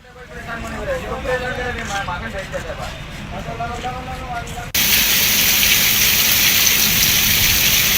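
Rain driven by strong winds over the Kotputli area of Rajasthan: a voice talks over a rushing backdrop at first, then a dense, loud, steady roar of rain and wind takes over alone.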